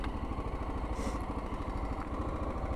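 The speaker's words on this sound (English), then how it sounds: "So now is the bike in neutral." A motorcycle engine idling in neutral up close, a steady, even low putter with rapid regular pulses and light mechanical clatter throughout.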